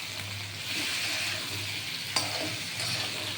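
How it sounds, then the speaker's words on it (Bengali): Vegetables including eggplant sizzle continuously in a pan for a simple vegetarian curry with green chilies and five-spice, stirred with a utensil and one brief clink, close and steady with no talking. "দেখুন এবার একটু খুলে আমি নেড়ে দিলাম"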